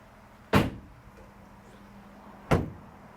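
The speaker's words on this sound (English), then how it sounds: "I really like the closing sound of the doors." Two solid thuds as the doors of a 2024 Ford Transit Courier van shut, about two seconds apart, each a short, deep, close slam followed by quiet.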